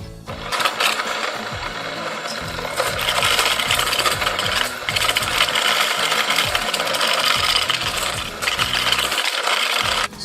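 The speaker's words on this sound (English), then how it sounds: "So using an electric mixer, beat the 200 grams of butter until it becomes pale and fluffy." An electric mixer creams 200 grams of butter for cupcakes, giving a steady, close rattling whir with a clattering texture that runs continuously throughout, with no talk.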